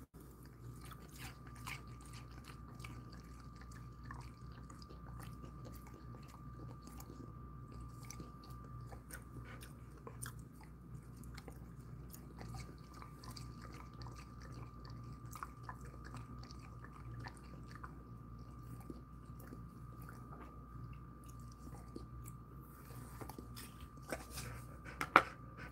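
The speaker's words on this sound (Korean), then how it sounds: "두 조각 먹으라고 했더니 두 조각 먹고는" A Jindo dog chews snack pieces after a walk, with quiet, intermittent crunching and munching bites spread over a long, hushed stretch, close by and with no talking.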